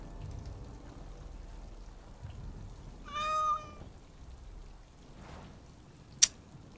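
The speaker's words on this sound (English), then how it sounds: "oh, a kitten." A kitten in a video game lets out a single clear meow, close and bright, over a soft rain-like background, with a sharp click shortly after.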